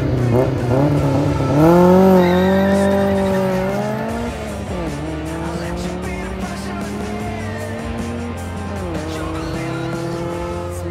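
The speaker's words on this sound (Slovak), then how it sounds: "keď počujete tie autá, ako zrýchľujú tie M5-ky" BMW M5 cars from the 1990s accelerating hard at a drag race, engines climbing through repeated rising revs and gear changes, loud and close, with some tire squeal.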